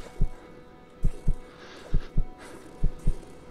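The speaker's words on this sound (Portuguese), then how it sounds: "Por que eu tô escutando um batimento cardíaco agora, mano?" A slow heartbeat thumps in paired beats, three double pulses evenly spaced, loud and close against a faint hum in the game Kona.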